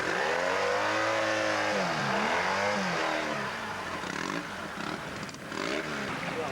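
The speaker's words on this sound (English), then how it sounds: "Certainly more revs per minute on that." A pre-1965 trials motorcycle engine revs up and down repeatedly at a Scottish trial event, its pitch rising and falling, at moderate distance with a noisy background.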